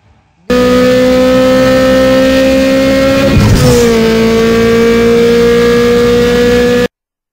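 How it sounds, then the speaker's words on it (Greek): A motorbike engine in a video game holds a loud, steady buzzing drone, dips briefly in pitch midway, then settles back to a constant hum before cutting off abruptly. "Μηχανάκι πήρες."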